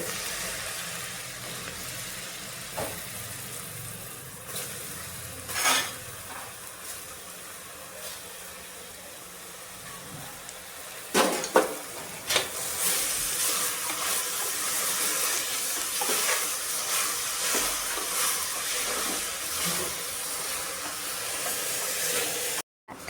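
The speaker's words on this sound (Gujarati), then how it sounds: "દૂધી ઘીમાં 2 મિનિટ સાતળી લેવાની છે." Steady broadband hiss of grated bottle gourd sautéing in hot ghee, continuous throughout with a few brief clatters and a sharper burst near the middle.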